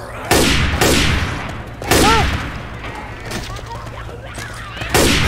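Gunfire in the zombie shooter Left 4 Dead 2 in a mall setting, with several loud sharp shots and bursts spaced over a few seconds amid game sounds.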